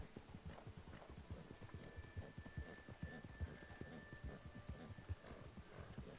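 Horse hooves clip-clop steadily in Red Dead Redemption 2, a rapid, even gait of soft thuds kept up for the whole stretch over a faint background hum.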